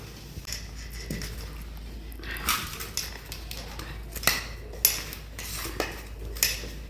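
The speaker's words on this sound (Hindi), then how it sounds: "इसको खूब अच्छे से चला लेना चाहिए" Amaranth laddu mixture stirred in a pan, with repeated metallic scrapes and knocks of a spoon against the pan at an uneven rhythm, close and moderately loud, over a low hum.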